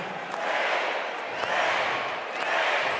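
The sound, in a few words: basketball crowd calling for a three-pointer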